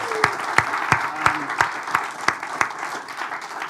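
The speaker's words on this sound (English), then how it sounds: "So let's give our sponsors a huge round of applause." A church congregation at a Sunday service claps in unison for gala sponsors, a rhythmic series of sharp synchronized claps at a steady beat over a background of scattered clapping and murmur.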